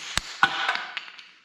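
On a Husqvarna snow blower, a carburetor spacer is knocked loose with a few sharp metallic taps and knocks that come irregularly over a second and a half, close and clear.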